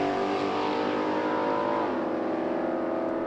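Drag racing at Byron Dragway, a satin black Chevy Nova against a Chevelle, with a sustained engine roar that drops in pitch as the cars pull away, loud and with no talking.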